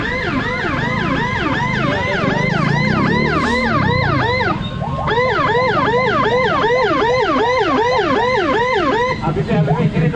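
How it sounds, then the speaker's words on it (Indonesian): An ambulance siren wails in a fast, repeating up-and-down pattern, loud and close, holding steady for the whole stretch with a brief shift midway, while traffic rumbles underneath. "Ini ambulans yang jadi fokus utama ya"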